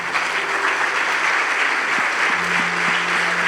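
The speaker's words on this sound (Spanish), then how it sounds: "Vamos a darle un fuerte aplauso al Señor ahí." A church congregation applauds steadily throughout, a dense wash of clapping with no break, fairly loud and close.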